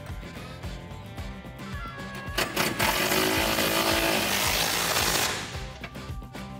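Power tool with a 19 mm socket and extension tightening a mounting bolt on a bull bar being installed on a 2019 Chevrolet Silverado 1500, a rattling burst that swells loud for a few seconds and then cuts off, close by with no talk.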